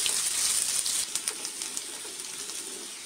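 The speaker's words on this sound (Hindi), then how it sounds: "कटी हुई प्याज डालेंगे और गोल्डन होने तक फ्राई करेंगे" Chopped onions sizzle in hot oil for dal fry, a steady bright hiss that stays close and continuous, with small crackles and pops scattered through it and no voices.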